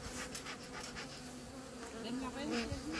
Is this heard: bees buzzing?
yes